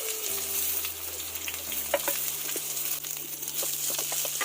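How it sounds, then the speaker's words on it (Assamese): Large-cut onions frying over a low flame for pulao, a steady close sizzle with occasional crackles and stirring scrapes over a faint low hum. "ফ্ৰাই কৰি আছোঁ, ৰংচোৱা নোহোৱালৈকে"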